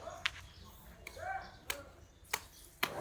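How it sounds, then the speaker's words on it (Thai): A sharp knife chops through bananas in about five separate, irregular strikes, each a crisp close thud, with faint background sounds between the cuts. "คุณตาก็มาจะตัดกล้วยให้อีกนะครับ"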